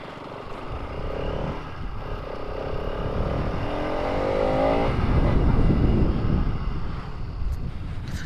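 A BS6 Bajaj Pulsar RS200 motorcycle engine and exhaust hum steadily while riding, with a deep bassy drone and a rising rev around the middle, heavy wind buffeting over it and no talk.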